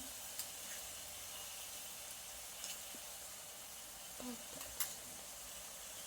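Chicken pieces frying in oil for a chicken gravy: a faint, steady sizzling hiss runs throughout, with a few soft ticks and stirring clicks and no talking.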